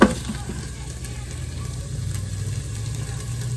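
Chicken and sausage gumbo sautés in a Disney Instant Pot, giving off a steady, close sizzle and hiss that runs throughout without letting up.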